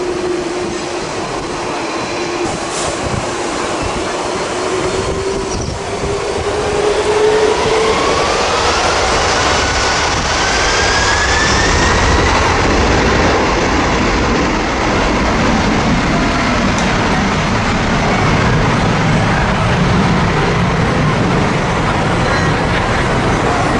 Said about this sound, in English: These beachgoers thought they could relax behind the takeoff area of a Boeing.